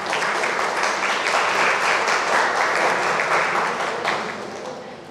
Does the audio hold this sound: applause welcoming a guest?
yes